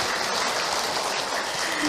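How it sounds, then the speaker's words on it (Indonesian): An audience at a Muslim women's study gathering in Tangerang claps in a dense, even burst of applause that holds at steady loudness throughout. "Tepuk tangan"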